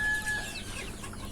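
Desi chickens and young roosters clucking in a poultry shed, a few soft calls over a quiet hum, faint and brief.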